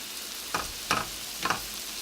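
Chicken marsala sizzles steadily in a pan, broken by three louder bursts of frying as the pieces are stirred and moved, heard up close with no talking.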